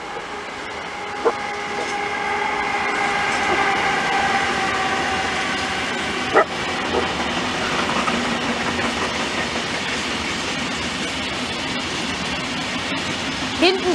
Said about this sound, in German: wieder aus Richtung Würzburg kommt eine Vectron von entweder MRCE oder Box Express